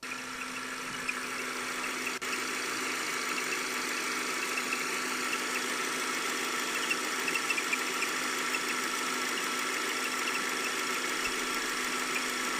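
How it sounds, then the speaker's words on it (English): A car engine idles steadily with a faint continuous squeal from the serpentine belt near the alternator, a close, unbroken drone with a thin whine on top, and no one speaking. "this noise sounds to me like it's obviously related to belts in some way, just based on the squeal"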